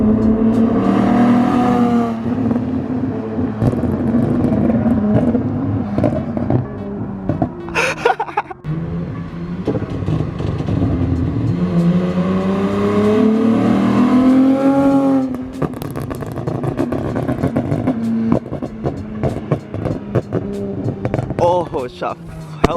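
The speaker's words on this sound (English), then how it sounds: "he is able to shoot a lot more flames with this exhaust" A bagged Subaru WRX fitted with a Tomei Expreme Ti titanium exhaust revs hard and close, its loud engine note rising and falling through several long pulls with brief drops between them.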